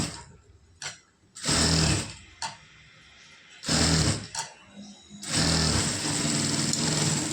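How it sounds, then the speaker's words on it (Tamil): A sewing machine stitches fabric pieces of a nighty in several short bursts of fast mechanical whirring, close and loud, with pauses between runs. "மறுபடியும் இன்னொரு பீஸும் வந்து அதே மாதிரி நான் ஸ்டிச் பண்ணிகிட்ருக்கேன்."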